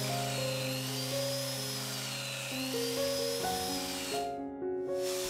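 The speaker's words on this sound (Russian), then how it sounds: "Дерево смотрим, сверлит в легкую, и крутящего момента здесь более чем достаточно." An Allsome BG-5167 drill press whines with a steady pitch that shifts as it bites into wood, loud and close, with a hissing burst near the end.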